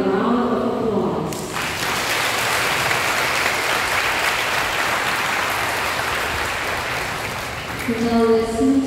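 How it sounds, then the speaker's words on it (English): A congregation applauds newly ordained deacons at a diaconal ordination Mass, a sustained wash of clapping that fills the church for several seconds, with a sung or spoken voice before and after it. "let us give them a round of applause"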